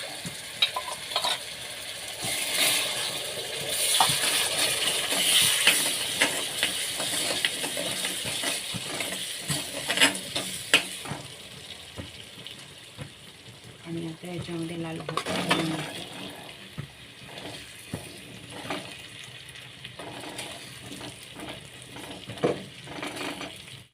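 Soaked chana dal sizzles in a hot spiced tempering, with a constant frying hiss and the clink and scrape of a spoon stirring the pan, loud and close throughout.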